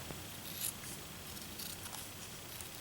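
A faint snipping and scraping as a small piece of clay or tool material is trimmed down to size, a few soft cuts spread over a few seconds against a quiet room.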